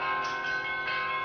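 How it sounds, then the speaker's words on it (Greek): Church bells of a Greek Orthodox monastery ring out steadily, a bright layered peal with sustained overlapping tones and periodic fresh strikes, filling the whole short stretch with no voices. "την ώρα που οι καμπάνες του ελληνοορθόδοξου μοναστηριού ηχούν"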